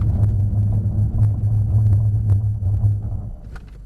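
A Mercedes-Benz C63 Black Series engine while driving, a low steady drone that holds, then eases off toward the end, heard from inside the car with no talk.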